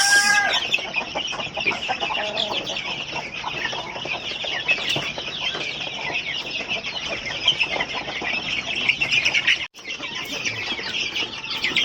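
A large flock of chicks, around eighty or ninety, cheeps constantly in a brooding pen, a dense high-pitched chorus close up with occasional clucks mixed in.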